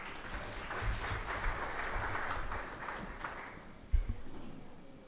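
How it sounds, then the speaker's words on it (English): An audience at the 20th anniversary celebration of the African Council for Distance Education gives a round of applause, a soft wash of clapping lasting several seconds that fades out, ending with a single thump. "Please let's give her a round of applause."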